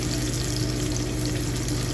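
Whole garam masala and onion frying in a cooking pot, a steady close sizzle with faint bubbling running evenly throughout, no voices.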